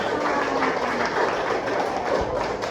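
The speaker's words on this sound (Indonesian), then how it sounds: "Oke, tepuk tangan" A class of schoolchildren claps together in their classroom, a dense and steady patter of many hands that holds at an even level from start to finish, with no talking over it.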